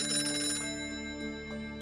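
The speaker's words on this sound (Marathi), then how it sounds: "बघ ना कोणाचा फोन आहे." A household telephone rings indoors, its bell tone repeating steadily and fairly quiet, with no talk over it.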